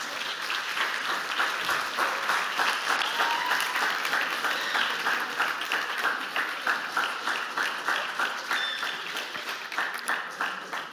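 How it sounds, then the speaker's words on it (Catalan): Sustained, dense applause from a crowd for a sign language group at an anniversary event, loud and steady throughout with no talking over it. "per favor, un gran aplaudiment per tots vosaltres"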